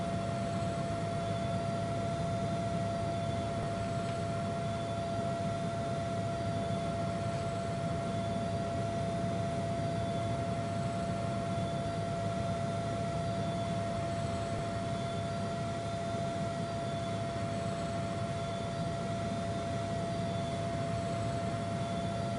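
Lynx Mk7 helicopter turbine engine running at ground idle in the Aerofly FS2 flight simulator, a steady droning whine with constant tonal hum, unbroken and fairly loud throughout.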